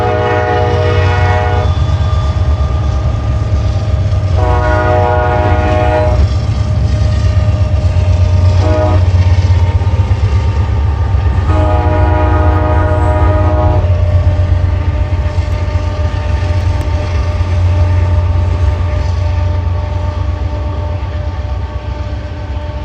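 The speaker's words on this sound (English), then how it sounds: "that whistle that trains blow whenever they go through a grade crossing" Trains pass a grade crossing on a line between Chicago and Albany, New York, sounding loud horn blasts in a repeating pattern of long and short blows over a continuous rail rumble and clatter, with no one talking.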